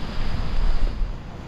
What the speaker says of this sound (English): It's getting windier and windier and windier